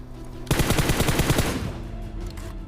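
Gunfire in the mobile battle-royale game PUBG Mobile, a single loud rapid automatic burst of about a second, starting suddenly and followed by a lingering echo and quieter game noise.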